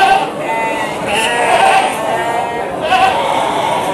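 Several Garut breeding sheep bleat repeatedly in overlapping calls at a sheep market, loud and close, amid busy market background noise.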